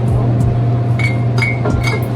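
Glass cups clinking against one another in a kitchen, a few light, bright taps over a steady background hum, close and moderately loud.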